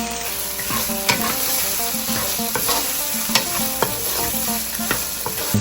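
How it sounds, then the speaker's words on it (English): Minced onions stir-fry in a hot pan for a Thai holy basil ground pork dish, a steady bright sizzle broken by several sharp scrapes and clinks of a spatula, with no talking. "Add in the onions."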